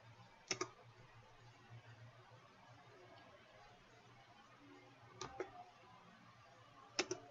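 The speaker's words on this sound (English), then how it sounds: "so now I'm going to right click" A computer mouse clicks a few times, giving sharp, quiet double clicks spaced several seconds apart over a faint steady room hum, with no talking.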